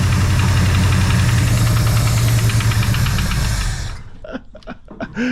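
A 1966 Ford Fairlane with a 390 FE V8 and four-speed runs loud and rough just after its first start in 20 years, its uneven, knocking idle droning close up for about four seconds before cutting out, followed by scattered voices.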